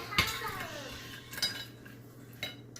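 Crispy fried chicken tenders handled on a plate at home, producing clinks and sharp clatters of plate and utensils with a faint crunchy rustle, a few distinct knocks spread over a quiet room.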